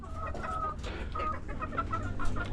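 Chickens clucking close by in a backyard coop of laying hens, a steady chorus of short overlapping clucks and calls running throughout.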